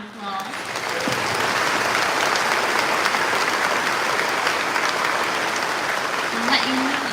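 Sustained applause from an audience at a Reform UK political speaking event, honouring campaign helpers; dense, steady clapping holds at full strength for several seconds, with a brief voice faintly heard at the start.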